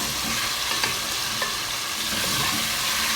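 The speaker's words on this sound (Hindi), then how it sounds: "चिकन डाल दिया है, अब इसको हम फ्राई करेंगे" Chicken pieces frying with garlic in a pan for chow mein, a dense, steady sizzle close by with a couple of faint stirring clicks; no speech.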